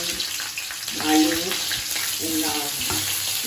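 Vegetables sizzle in spiced oil in a pan, with aubergine among them, giving a steady hissing crackle close by while a voice speaks briefly over it.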